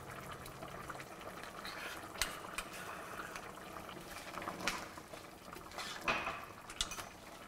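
A spoon scrapes and clinks against a pot of mutton kurma as cashew nut paste is stirred in, giving faint, close scraping with a few sharper metal knocks over a quiet bubbling background.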